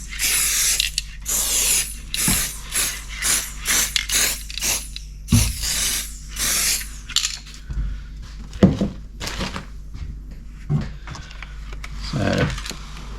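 Bursts of layering spray hiss onto 2mm artificial grass on model railway scenery, several short blasts in a row with brief gaps, close and fairly loud.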